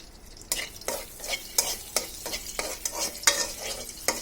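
Dried red chilies fry in hot oil, a bright crackling sizzle punctuated by a regular series of loud scraping stirs roughly every half second, close up and without any talk.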